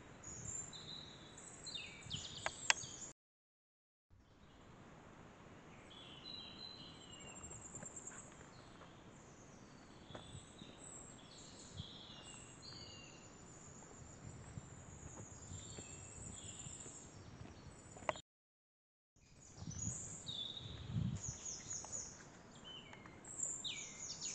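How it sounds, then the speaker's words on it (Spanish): Faint birds chirp and twitter in the distance over a soft outdoor ambience with insects in spring in the Garrotxa volcanic zone, broken by two brief silent gaps. "se pueden escuchar inclusive los pájaros"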